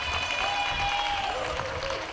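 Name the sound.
applause for Promise Learning Center Steel Orchestra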